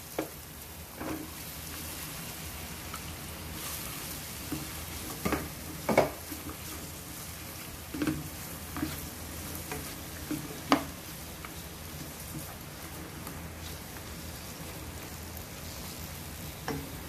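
Onion and carrots sautéing in a pan, a steady soft sizzle with scattered clicks and scrapes from stirring, close and fairly quiet, with no talking.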